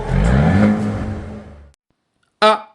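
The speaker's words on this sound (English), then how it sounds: "let's appreciate what they have done with the exhaust sound tune." A 2022 Haval H6 GT engine revs loudly with a throaty exhaust roar that fades to silence, followed by a brief sharp crackle or pop.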